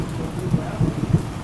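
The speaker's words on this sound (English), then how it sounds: "It's raining." Rain falls during a storm as a steady, dense hiss with low rumbling underneath and a few soft thuds, loud and continuous with no voices over it.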